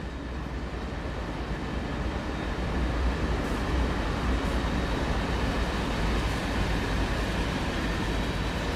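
A CSX freight train rolling past a grade crossing in Train Sim World 5, a steady heavy rumble of wheels and cars close by for the whole stretch, with faint horn-like tones above.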